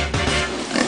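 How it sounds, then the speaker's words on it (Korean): An animal grinding its teeth makes a short, loud, pig-like grunting oink, a close and rough burst lasting under a second. "이를 갈면내는 보고의 소리 또한 꿀꿀거리는 돼지의 울음소리와 비슷하다고 했는데요."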